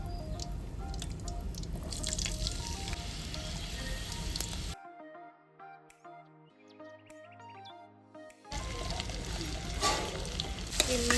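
Food sizzles loudly in a hot pan, a dense crackling hiss that breaks off for a few seconds of tonal music before the frying returns just as strong.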